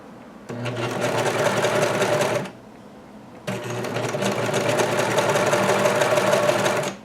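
A sewing machine stitching and trimming the hem of a dress runs in two sustained bursts of fast, even whirring and clatter, with a brief quiet pause between them, close and loud.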